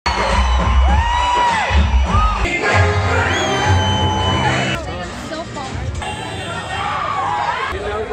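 A packed cinema audience at the interval of a first-day first show of Sarileru Neekevvaru, a dense roar of cheering, whoops, yelling and babble, loud and continuous throughout, with scattered shouts rising above the din.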